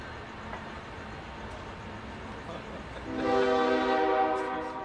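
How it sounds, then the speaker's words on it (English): A Union Pacific train passes with a low rumble that swells as the horn sounds a loud sustained blast in the final second and a half, near and dominant. "Enjoy the couple-second intermission while the train comes by."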